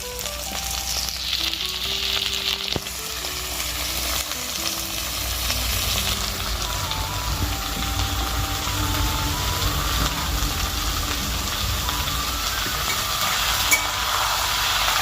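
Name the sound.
meat cooking and sizzling in a wok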